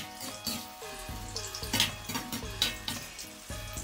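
Tofu deep-frying to golden brown in hot oil in a wok for scallion-braised tofu, giving a steady close crackling sizzle with a few brief clinks and bubbling swells throughout.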